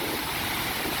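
A waterfall in the Mixteca region roars loudly and steadily, a dense broadband rush of falling water with no gaps or voices over it.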